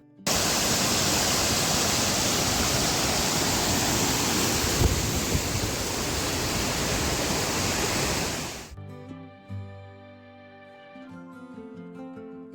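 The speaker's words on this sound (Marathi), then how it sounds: "पुढे आल्यावर एका सुरक्षित ठिकाणाहून धबधब्याचा पहिला टप्पा पाहिला" Vanalakshmi waterfall near Badlapur, a loud, unbroken roar of falling water, then suddenly replaced by soft music.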